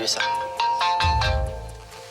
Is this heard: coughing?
no